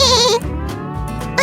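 A goat bleats loudly and close up in one wavering cry, followed by a lower, softer bleat-like tail, alone with no talk.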